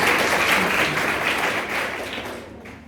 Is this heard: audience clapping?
yes